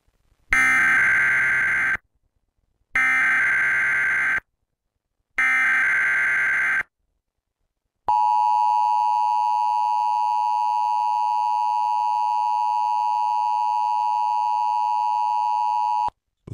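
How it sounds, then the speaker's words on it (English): An Emergency Alert System test: three loud, identical two-second attention-tone bursts separated by short gaps, followed by a long, steady, piercing single tone lasting about eight seconds, with no voice over it. "The following is a test of the emergency alert system."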